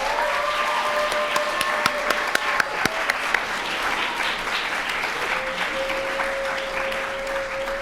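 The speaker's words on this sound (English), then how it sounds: "A round of applause for Emerald." Audience applause fills an awards ceremony for teen artists, a steady wash of many hands clapping throughout with a few sharper individual claps standing out, while a faint tone drifts in the background.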